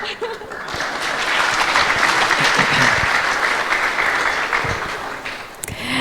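Sustained applause from an audience at a Sunday Love Feast gathering, a dense steady clatter of many hands that fills the whole stretch, with a light chuckle near the end before it thins out.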